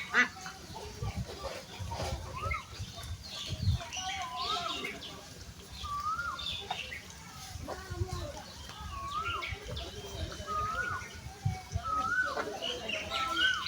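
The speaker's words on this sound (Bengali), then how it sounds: "তাই হাঁসগুলো এই উঠোনে পানি জমে যাওয়ার কারণে হাঁসগুলো ভেবেছে এটা পুকুর। এখানে সাঁতার কাটতেছে" Ducks quack repeatedly in a rain-flooded courtyard where they swim, with bird chirps and steady background noise around them; the calls recur throughout at a moderate distance.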